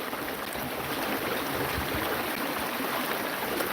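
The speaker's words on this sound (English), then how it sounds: "It's a beautiful little creek." A small creek flows in a steady, broadband rushing babble, close and continuous with no voices.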